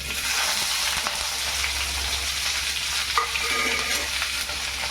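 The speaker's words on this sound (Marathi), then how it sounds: "तेल गरम झालं कांदा टाकून घेऊ" Steady, loud sizzling of onions frying in hot oil in a kadhai, a continuous crackling hiss with occasional stirring scrapes and no voices.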